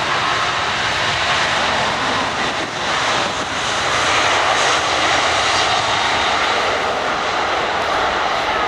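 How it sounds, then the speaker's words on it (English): An Airbus A380 airliner takes off at the 2008 Farnborough Airshow, its engines giving a loud, steady roar that swells slightly as it climbs, with no voices. "it is a beautiful stunning aircraft in the air, but watch the initial takeoff and departure"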